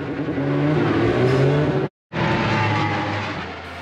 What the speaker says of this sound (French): Et la moto démarre enfin.